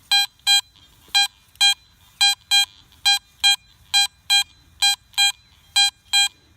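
Short electronic beeps from a metal detector target tone repeat in pairs and singles, clean and bright, reading mid 80s VDI, with quiet background noise between them.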